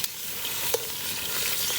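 Food sizzles in a camp oven over coals on a beach, a steady bright crackle and hiss with a few small pops, close and continuous, with no talk.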